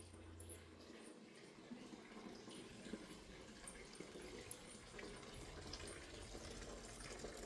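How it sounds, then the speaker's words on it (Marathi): Water runs from a tap to fill a bucket for bathing, a faint steady gushing with soft splashes in the background and a few scattered light knocks. "पाणी भरतात."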